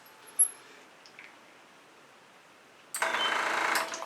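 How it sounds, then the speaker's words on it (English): An airbrush in an acrylic pour painting workspace abruptly starts up near the end with a loud, buzzing mechanical whir, after a long quiet stretch broken only by a faint click. "That is my airbrush that is calling to me endlessly"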